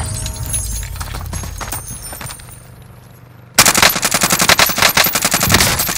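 Gunfire in Call of Duty Warzone on Rebirth Island: quiet game ambience with scattered distant shots, then a sudden loud, rapid burst of automatic fire that continues to the end.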